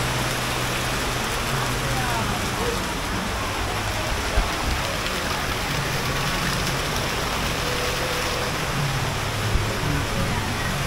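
Heavy rain falls steadily on a rainy day, a constant dense hiss with no pauses and an occasional louder drop or knock standing out from the downpour.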